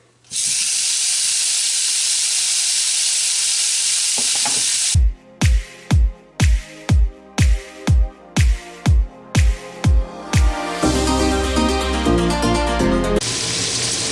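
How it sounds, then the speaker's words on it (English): Chopped bacon sizzles loudly and steadily in a pan. The sizzle drops away during a run of about a dozen sharp, evenly spaced knocks, then returns with more crackle. "So while my bacon is actually cooking"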